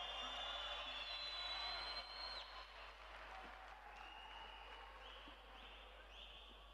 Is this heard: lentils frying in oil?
no